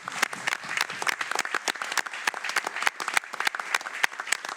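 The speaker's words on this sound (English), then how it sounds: "how about a round of applause?" A room of people at a county board of commissioners meeting applauds, with dense, steady clapping filling the room throughout and no talk.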